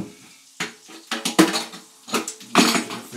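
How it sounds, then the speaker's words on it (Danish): A frying pan is rinsed at a kitchen sink, with a series of close, sharp metallic clanks and knocks in irregular bursts and short pauses between them. "Lad os lige skylle panden af her."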